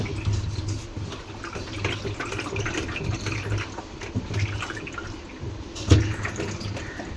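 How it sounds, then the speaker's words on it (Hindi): Water sloshing inside the tub of a washing machine as the tub is shaken by hand, a continuous watery swish with irregular splashes and one sharper knock near the end, close and fairly steady. "इसको मैं देखो अभी हिलाऊंगी ना, तो यहाँ से ना पानी की आवाज़ आती है।"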